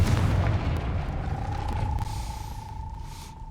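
Confringo spell explosion in Hogwarts Legacy, a deep booming blast that rumbles and fades over a few seconds, with a thin ringing tone drifting under the decay.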